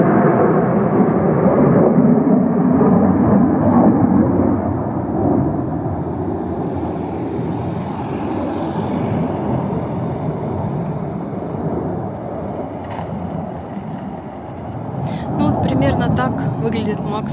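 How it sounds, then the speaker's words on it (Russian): A loud, sustained roar of fighter jet engines passing overhead at the MAKS 2021 air show, heard from a roadside, rising and fading slowly, with a faint clatter near the end. "Истребители летают."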